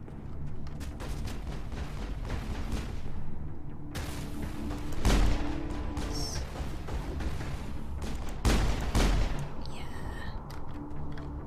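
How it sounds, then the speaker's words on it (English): Gunfire and explosive booms from combat in the video game Mass Effect, with bursts of shots and heavy impacts rising and falling over a dense background of game sound effects and music. "shooting a floaty thing."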